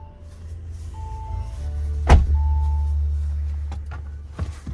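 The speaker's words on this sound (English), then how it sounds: "that didn't close all the way, demonstrating my point that these doors are hard to close" 2020 Audi A6 rear door swings shut with a single dull thud close by, set against a low rumble of background noise, followed by a few faint clicks and small knocks.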